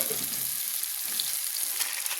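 Cauliflower that was fried earlier is tipped into a spice mix already sizzling in oil. A bright, steady frying hiss runs throughout, with a soft low rustle at the start as the pieces go in. Nobody speaks.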